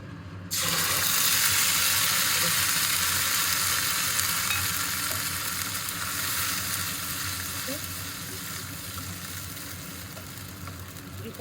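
Puree of ginger, garlic, tomato and green chilli hits hot oil with a dried red chilli for chilli fish, bursting into a loud, steady sizzle that holds for over ten seconds and fades slightly, with no talk.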